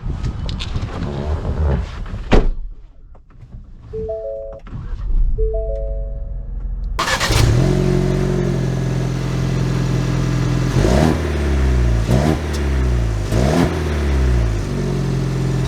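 A 2022 Ford Bronco with a manual transmission cranks and starts after a quiet stretch with light tones, then idles loudly and revs up through repeated accelerations as it pulls away, close and prominent.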